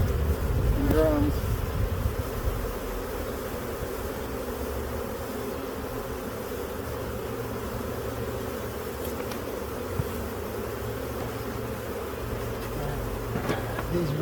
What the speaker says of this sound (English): Ones that fly are the adult bees.